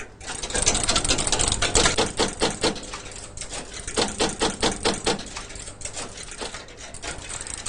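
Harwell WITCH computer, the relay-based machine at Bletchley, starting up and reading its program from paper tape: a steady, rapid mechanical clatter in a close, even rhythm, loud and continuous throughout.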